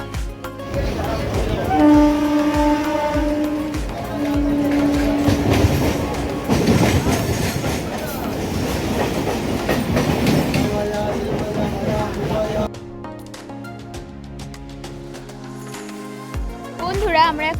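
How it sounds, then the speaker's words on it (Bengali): A train ride carries passengers from Tikiapara station toward Bishnupur, with a steady, loud rumble of carriage and rail noise running throughout and voices faintly heard among the din. "এবার ট্রেনটা এলে আমরা ট্রেনে করে উঠে যাব বিশ্বপুর স্টেশন"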